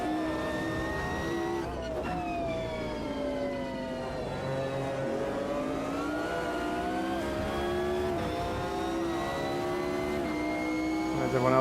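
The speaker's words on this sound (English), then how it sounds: "So loud, that McLaren" A McLaren race car engine in the sim racing game Automobilista 2 screams loudly and steadily, its harmonic whine rising and falling through gear changes as the car laps the track, with other cars audible around it.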